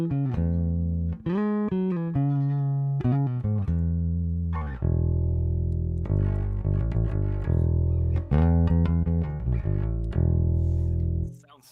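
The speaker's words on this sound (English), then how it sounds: "I'm basically playing a P bass in a jazz bass body." Bass guitar played through only its P bass pickup, a P bass setup in a jazz bass body. It plays a loud, punchy riff of deep plucked notes with short gaps, ending in a fade.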